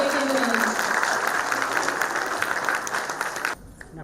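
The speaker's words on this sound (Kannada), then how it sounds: "ಎಲ್ಲರೂ ಚಪ್ಪಾಳೆ ಮೂಲಕ ಪ್ರೋತ್ಸಾಹಿಸಬೇಕೆಂದು" An audience at a charitable trust's first anniversary function claps loudly and continuously for about three and a half seconds before the applause cuts off abruptly into quiet room tone.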